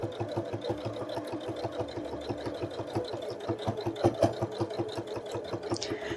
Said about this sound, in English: literally just going to sew a 1/4 inch around